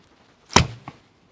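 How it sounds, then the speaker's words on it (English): A Léda Lida bow of 36 lbs draw weight shoots an arrow, giving one sharp snap of the string with a short thrum and a faint second knock just after, then silence. "you could hear that the bow has a very nice sound"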